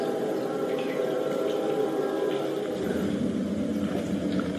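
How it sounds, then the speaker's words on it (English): A low, steady rumble echoes through an old train tunnel with no tracks, only mud, a continuous train-like roar with a hollow, reverberant tone heard from inside the tunnel. "Do you think that's the sound of a phantom train?"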